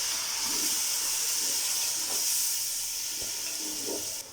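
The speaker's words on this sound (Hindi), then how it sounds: "गरम मसाला शामिल करने के बाद हम थोड़ा सा इसमें पानी शामिल करेंगे।" Water added to hot oil and ground garam masala for Bannu-style mutton pulao sets off a steady, close steam hiss and sizzle that runs through the whole moment with no one talking.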